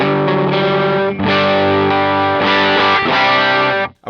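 Electric guitar with higher-output pickups played through an amp's Brit-style channel, thick and overdriven with sustained distorted chords, loud and continuous, cutting off sharply near the end.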